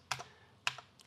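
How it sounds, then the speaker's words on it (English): Keys clack on a computer keyboard while a command is typed into Windows, two quick pairs of close, crisp keystrokes with a lighter tap at the end, no talk. "And then we're gonna type in"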